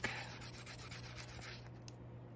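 Faint, rhythmic rubbing strokes of fine micro mesh sanding a small polymer clay bead, quiet and close, over a steady low hum.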